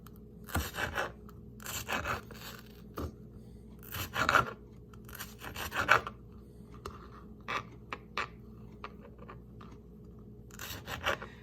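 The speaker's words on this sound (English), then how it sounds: "just cut that into little pieces" Knife cutting a small potted pepper plant's produce into little pieces, with repeated short crisp slicing and scraping strokes in irregular bursts, close and fairly quiet with no talking.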